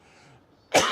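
A single sharp cough bursts out near the microphone after a brief quiet stretch.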